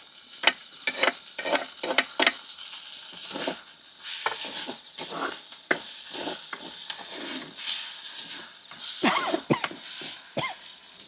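Chopped tomato goes into a pan of frying onion, chilli and garlic, giving a close sizzle and hiss with irregular stirring scrapes and clatters throughout.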